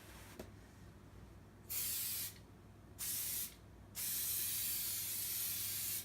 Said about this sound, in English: and then we're going to spray it